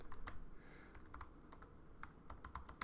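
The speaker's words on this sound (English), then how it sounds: "and then I'm going to type something" Someone types on a computer keyboard, producing quiet, close, irregular clicking keystrokes in short bursts with brief pauses between them.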